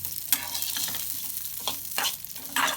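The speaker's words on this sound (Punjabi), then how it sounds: "ਹੁਣ ਇਹਨਾਂ ਨੂੰ ਅਸੀਂ ਚੰਗੀ ਤਰ੍ਹਾਂ ਭੁੰਨ ਲਵਾਂਗੇ।" Dry vermicelli is roasted in a pan for sweet seviyan, giving a steady close sizzle and rustle with several scraping stirs of the spoon through it, no talk.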